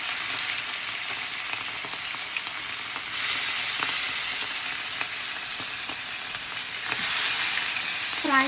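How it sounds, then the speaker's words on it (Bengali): Prawns fry in a pan with brinjal, a loud, continuous hissing sizzle with occasional crackles and brief stirring clinks, close and steady throughout. "এখন চিংড়ি মাছগুলো দিয়ে দিচ্ছি"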